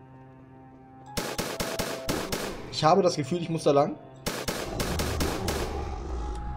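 Rapid bursts of gunfire in the video game Gamer Simulator, sharp repeated shots in two clusters with someone talking between them.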